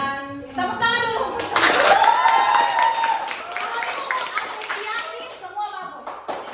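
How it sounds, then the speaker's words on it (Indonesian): Schoolchildren in a classroom clap hands together, a busy burst of claps mixed with children's voices and chatter that tails off toward the end. "tepuk tangan dulu"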